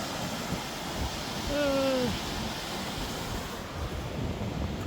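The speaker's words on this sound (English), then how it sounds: "then the water's releasing on that side." Water released from Sheridan Lake Dam rushes in a broad, steady roar heard from up on the dam, with wind buffeting the microphone and a brief tonal whine partway through.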